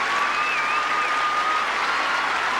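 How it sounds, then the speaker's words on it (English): A large tennis crowd applauds after the 1981 Australian Open women's singles final, a dense, sustained wash of clapping that stays loud and even throughout with no voices on top. "Well, listen to the crowd."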